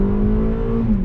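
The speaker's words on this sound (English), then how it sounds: "We're gonna put the full 200 horsepower all-wheel drive in motion and accelerate." A loud, close four-cylinder engine in a 2023 Toyota RAV4 all-wheel-drive SUV revs and pulls hard, its steady droning tone climbing as the vehicle accelerates.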